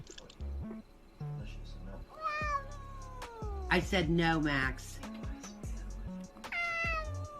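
A cat meows repeatedly in rising, drawn-out cries that mix with close conversation and exclaimed words from several people.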